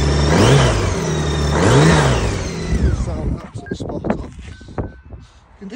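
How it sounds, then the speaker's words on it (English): A close 2010 Honda Goldwing motorcycle engine revs twice, rising and falling in pitch, then settles into a lumpy idle with popping exhaust pulses. "I'll let you hear the engine. It sounds absolutely lovely."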